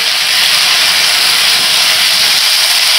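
A continuous, loud sizzling hiss of onions and spices sautéing in a hot pan for Tamil vada curry, steady and bright, with no pauses or voices.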